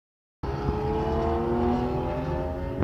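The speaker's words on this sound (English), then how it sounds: "Some old Porsche was accelerating." An old Porsche accelerates nearby, its engine roaring in a steady, loud, rising drone that starts abruptly after a brief silence and carries on alone without talk.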